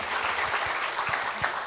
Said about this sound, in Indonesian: Tepuk tangan untuk Ayah.